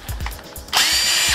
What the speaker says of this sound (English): Wind that drill, and they'll come off in no time.